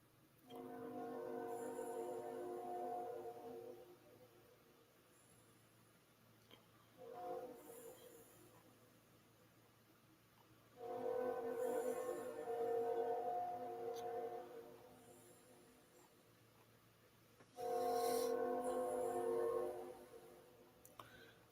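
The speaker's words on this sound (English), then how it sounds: "I hear a train coming." A train approaches, sounding as four long blasts of a harmonic horn, each several seconds long and separated by pauses, over a low steady rumble. The horn is moderately loud and sounds somewhat distant.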